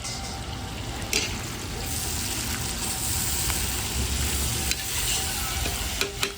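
Mastava ingredients frying and being stirred in a pot, a steady close sizzle with scraping stir strokes and a few clinks, no talking.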